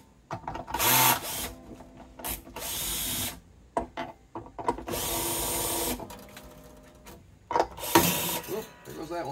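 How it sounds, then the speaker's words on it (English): Strings are removed from a Martin acoustic guitar: ratcheting winder clicks, metallic scrapes and handling noises come in bursts, with a string snapping along the way and a voice talking between them. "let's take these strings off"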